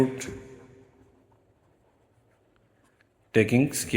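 Pen writing on paper while solving a math problem, faint scratching strokes starting after a brief opening noise and fading low, then cut off by someone speaking.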